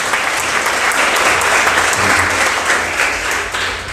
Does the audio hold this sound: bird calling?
no